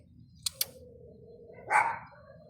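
A small dog gives one short, fairly close bark after two sharp clicks, with a low rumble of background noise throughout.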